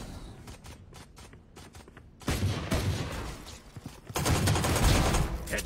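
Gunfire in the shooter game Valorant, first scattered quieter shots, then dense sustained bursts of rapid automatic fire that grow louder in two stages, filling the mix, with no talking.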